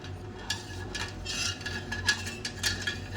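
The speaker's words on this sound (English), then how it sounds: "I'm going to stir this up." A silver cell solution containing a piece of copper is stirred in a glass beaker, giving quiet repeated scraping and clinking strokes over a low steady hum, with no talking.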